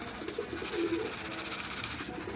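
Pigeons coo softly nearby in low, repeated murmuring calls over a faint steady background hiss.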